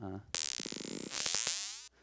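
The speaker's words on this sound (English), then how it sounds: "those like boing, springy sounds that are speeding up, it's a delay that's being modulated" Rapid springy boings from a modulated delay effect bounce and speed up, stretching into a swooping, wobbling tone before cutting off abruptly.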